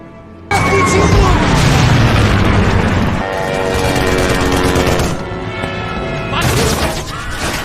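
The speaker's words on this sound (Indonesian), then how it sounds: "pesawat Jerman datang dan menghujani kapal tongkang dengan tembakan" Loud bursts of rapid gunfire and booming blasts from German aircraft strafing a barge, dense and close, with a roaring engine-like drone running underneath.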